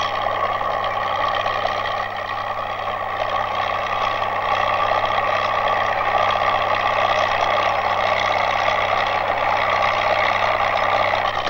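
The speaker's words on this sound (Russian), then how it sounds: "Когда поле надо вспахать, на трактор навешивают плуг." A tractor with a mounted plough works a field, its engine producing a continuous, steady drone with a low hum, loud and unchanging throughout.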